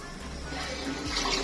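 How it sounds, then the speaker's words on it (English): A repaired toilet flushes, a brief surge of rushing water that swells in loudness over a moment, heard close up with no talk. "so our flush is working properly"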